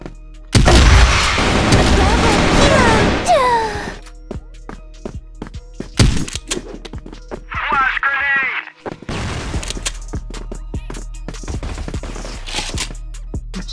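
Bursts of CrossFire 3.0 video game gunfire and booming blasts, loud at first, then scattered sharp shots and clicks with a brief electronic tone in between.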